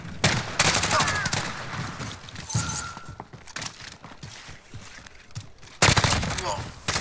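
Video game gunfire in Modern Warfare, including the Grau 5.56 rifle, rattles in fast, loud bursts with sharp impacts and shattering, spread across the clip alongside talking voices and busy battle noise.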